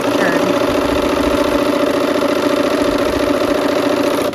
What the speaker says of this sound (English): Let me sew that seam and show you what I like to start.